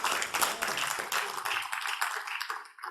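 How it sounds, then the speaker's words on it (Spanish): A church congregation claps steadily during a Spanish-language sermon, a soft, continuous wash of many hands heard at a distance that trails off at the end. "Denle un aplauso fuerte al Señor por eso."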